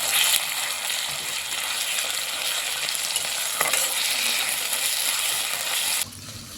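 Onion with garlic and ginger paste and spices frying in a pan while being stirred, a steady close sizzle with scraping strokes running throughout, dropping slightly quieter near the end.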